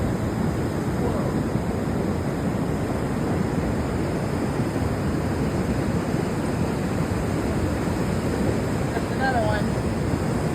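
Flash flood water rushes continuously in Phelan, California, a loud, unbroken roar like ocean surf, with wind noise and no clear voices.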